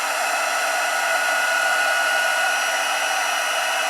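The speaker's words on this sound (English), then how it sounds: "I like heat embossing silver because it actually shows really well once it's heated." A heat tool blows on silver embossing powder with a steady, loud whirring hiss that runs unbroken and alone throughout.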